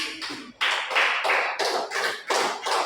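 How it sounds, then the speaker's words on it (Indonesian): A class of schoolchildren claps together in several steady waves of applause, loud and close, with no talking. "Dan terima kasih untuk kelompok 3, kita tepuk tangan."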